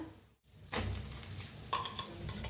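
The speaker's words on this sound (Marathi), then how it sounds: "दोन्ही साईडने छान तूप लावून घ्यायचं आणि दोन्ही साईडने छान असं भाजून घेऊया आपण पोळीला" Puran poli flatbread roasting in ghee on a hot pan: steady soft sizzle after a brief silence, with light scraping and stirring clatter partway through, no voices.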